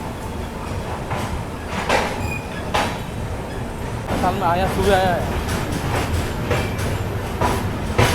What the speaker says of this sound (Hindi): अपने शेड्यूल टाइम से लगभग 47 मिनट की देरी से अपनी गुवाहाटी सायरंग निकल रही है गुवाहाटी रेलवे स्टेशन से